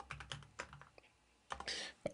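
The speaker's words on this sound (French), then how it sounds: "Ah, mon clavier." Typing on a computer keyboard at a desk while coding, with quick bursts of key clicks, a pause, then a louder flurry and a final sharp tap, close and clear with no talking.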